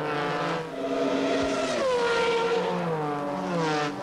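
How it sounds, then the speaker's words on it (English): Formula Holden race cars at Albert Park in 1996 scream past with loud, high-revving engines, their pitch sliding down as they go by and the engine noise continuing throughout. "You're looking at the Formula Holdens."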